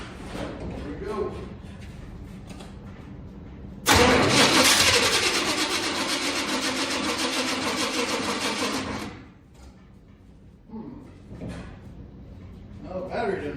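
1978 Chevy truck engine cranking on a weak battery, a sluggish, labored starter churn lasting several seconds before cutting off, with people talking before and after.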